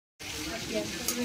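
Chicken pakora frying in oil at a picnic bursts in after a moment of silence as a dense, steady hiss and crackle, close and fairly loud.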